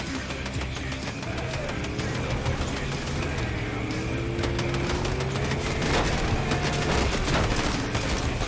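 Rapid, sustained gunfire in Fortnite, close and loud, with quick bursts of shots crackling continuously over a low background rumble.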